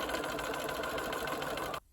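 A sewing machine stitching fabric for a zig zag triangle quilt piece, a fast steady mechanical whir with rapid needle pulses that stops abruptly near the end.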